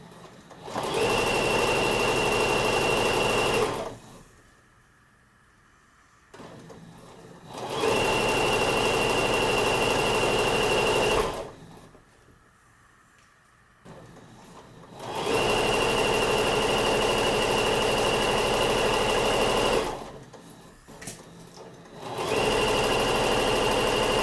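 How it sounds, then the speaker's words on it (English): A sewing machine stitching along the edge of fabric runs in three long, loud, steady buzzing bursts with short quiet pauses between them, close by. "The presser foot is running right along the edge of the fabric."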